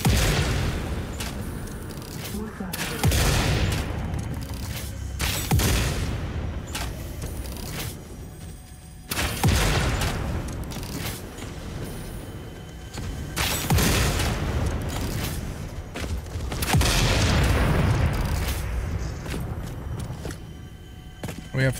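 Shotgun blasts in the video game Satisfactory sound as a series of heavy, booming shots spaced a few seconds apart, each with a loud thudding report and a rumbling tail over a continuous din of game noise.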